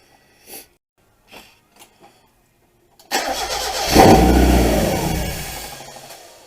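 A 1990 Mazda engine test-fired after a timing belt replacement: a few faint clicks, then the starter cranks and the engine catches, rising into a loud steady idle up close.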